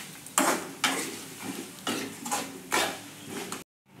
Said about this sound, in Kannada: ಇದು ಹಾಕಿ ಚೆನ್ನಾಗಿ ಫ್ರೈ ಆಗಬೇಕಿದೆ